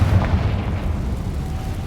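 A Confringo blasting spell goes off as a deep, rumbling explosion, a single heavy boom at the start that rolls on as a dense low roar for the rest of the moment, loud and close with no voices.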